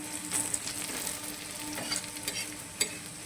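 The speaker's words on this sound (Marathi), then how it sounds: "असा कांदा लालसर करून घ्यायचा जास्त काळा पण करायचा नाही" Chopped onion sizzles and fries steadily in a pan while being stirred until reddish, with a continuous crackling hiss and occasional scraping clicks, up close and with no talk.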